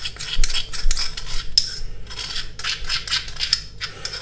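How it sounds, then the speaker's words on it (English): A spoon scrapes ground spices out of a pestle and mortar in a run of quick, gritty, rasping strokes, close and fairly loud, with short pauses between bursts. "get a spoon, get our spices out of the pestle and mortar, sprinkle that in there"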